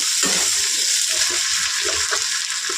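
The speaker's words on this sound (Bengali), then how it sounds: "পেঁয়াজ আলুটা ভালো করে একসঙ্গে ভেজে নিতে হবে।" Onions and potatoes fry together in a pan, a loud, steady sizzle broken by scraping stir strokes, with no talking.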